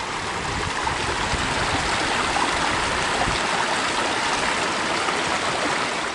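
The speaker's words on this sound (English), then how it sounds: "one of the prettier streams we've come across" A mountain stream on the Appalachian Trail near Standing Indian rushes steadily, a loud, close, continuous roar of water.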